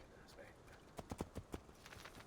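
Horse hooves clip-clop in Assassin's Creed 2, a short run of about five distinct hoof strikes in steady rhythm, followed by softer steps, with low background game ambience.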